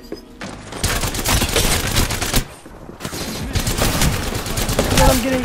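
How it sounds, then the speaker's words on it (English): Gunfire rattles in a shooter video game, with loud bursts of rapid shots coming in clustered volleys and broken by a brief pause. "I'm getting shot in the back."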